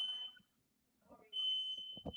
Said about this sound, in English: we had a smoke detector going off